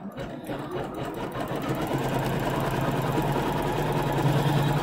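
An embroidery machine stitches a quilt with multi-tonal thread, a fast steady mechanical whir and needle clatter close by that runs on without pause.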